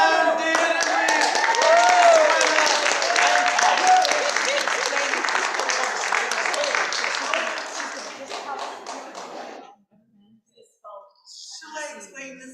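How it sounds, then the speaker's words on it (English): Full audience applause at a villagers' fireside variety show finale, celebrating Nan, David and Reed. Dense, steady clapping with voices mixed in lasts about ten seconds, then cuts off abruptly and a few quieter sounds follow. "Send a big round of applause for Nan"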